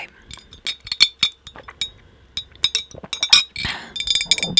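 Fingernails tapping and clicking on a glass straw, a rapid irregular series of sharp bright clinks close to the microphone, alone without speech.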